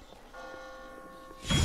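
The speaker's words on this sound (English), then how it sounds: "I just got spooked by those bells" Church bells ring in The Walking Dead video game with sustained, layered metallic tones. A loud burst of noise cuts in at the end.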